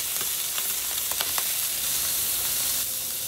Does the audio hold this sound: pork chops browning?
yes